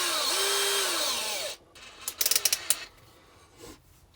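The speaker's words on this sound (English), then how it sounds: "Well, I'm keeping my drill on the 1 setting." An electric drill on its lowest speed setting whines steadily for about a second and a half, then falls silent before a quick burst of rattling, ratchet-like clicks and a few softer knocks.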